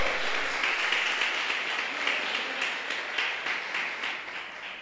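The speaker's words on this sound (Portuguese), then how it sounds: "Vocês podem aplaudir o nome do Senhor?" A church congregation applauds in praise during a Portuguese-language worship service, with steady, dense clapping that holds at an even level throughout, without any talk over it.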